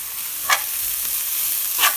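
Carrot added to hot oil in a pan for vegan cabbage rolls, with a steady close sizzle of frying and two brief stirring scrapes.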